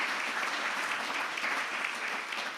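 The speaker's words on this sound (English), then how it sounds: "If you just give them a round of applause just before we move on to the next bit of business." An audience at a programme launch event gives a round of applause, steady dense clapping that holds at an even level for the whole stretch with no speech over it.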